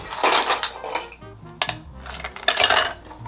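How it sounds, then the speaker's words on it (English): Ice cubes dropped into a mixing glass for a cocktail, two bursts of bright clattering and clinking close by, with a short pause between them. "Now that all of our ingredients are in there, we just need to add some ice."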